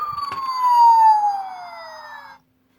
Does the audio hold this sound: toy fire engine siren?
yes